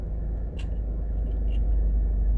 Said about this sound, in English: So we're driving into Old Harbor from the Spanish Town end.